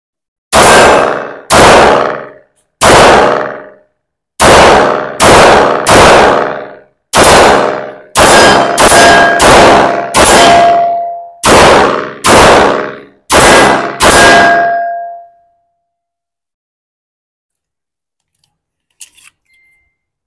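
An Arex Alpha all-steel pistol fires about fourteen loud, sharp shots in quick bursts and steady runs, with ringing impacts, then falls silent apart from faint handling clicks near the end.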